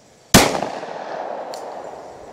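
A single sharp shot from a Glock 22 pistol chambered in .40 S&W, loud and close, with a ringing decay and a faint metallic click shortly after.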